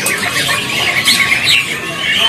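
Harsh squawks and calls from tame crows at a crowded bird market, loud and close, repeating irregularly over a bed of other bird chatter and market noise.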